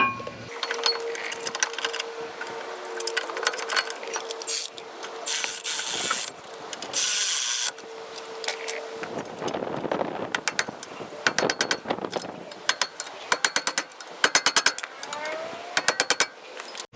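A ratchet tightens the front brake caliper mount on a 2005 Honda Accord, giving short bursts of rapid metallic clicking between scattered workshop clatter and quieter pauses.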